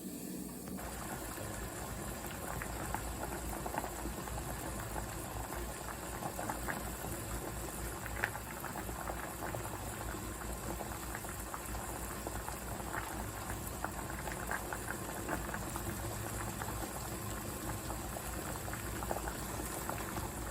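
Steady rolling bubble and hiss of water at a full boil in a pot with wooden spoons, continuous and close, with faint clinks and no voices.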